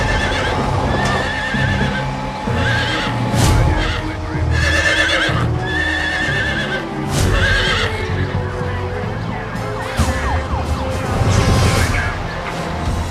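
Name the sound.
distressed horse thrashing and neighing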